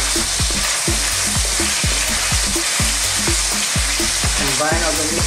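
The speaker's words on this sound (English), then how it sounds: "Then stir it." Goat pieces and fresh mushrooms stir-fried in a hot pan, a loud continuous sizzle broken by regular rhythmic scraping strokes of the spatula, close up.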